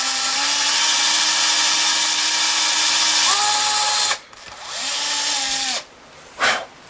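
A power drill bores screw holes for vintage tuners on a red Fender Telecaster guitar, the motor whining loud and close in long steady runs, pitching up briefly, then stopping and restarting in short bursts.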